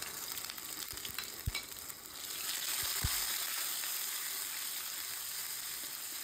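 Ginger garlic paste frying in a pan for a fish curry with bottle gourd and potato: a couple of sharp taps, then a steady close sizzle that swells and holds, no talk.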